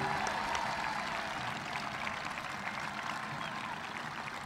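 An audience claps steadily at a high school graduation ceremony, a sustained, moderately distant patter of many hands lasting several seconds with no speech over it.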